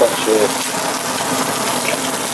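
Steady rushing water pouring into a pan without a break, a continuous close splashing flow.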